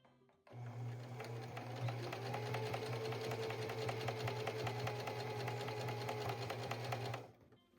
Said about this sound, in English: Now we're going to do a 1/4 inch seam sewing on this side and on top of this side.